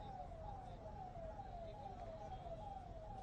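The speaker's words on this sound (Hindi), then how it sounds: "लेकिन सायरन की आवाज जरूर आ रही है।" An ambulance siren wails steadily in repeated rising-falling sweeps, sounding fairly distant beneath a constant background of traffic rumble.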